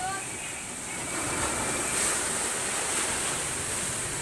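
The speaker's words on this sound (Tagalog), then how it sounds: "Lakas ng alon." Strong ocean waves surge and wash in during Typhoon Odette at night, a continuous broadband roar of surf mixed with wind noise, steady and loud throughout with faint voices nearby.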